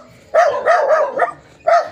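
A dog barks repeatedly and close by, five quick loud yaps in an uneven rhythm with short gaps, alone without speech.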